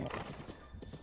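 A horse in Zelda: Breath of the Wild gives a short whinny with quick clip-clopping hooves, a brief, soft burst lasting about a second.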